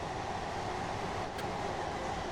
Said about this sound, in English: There goes another train.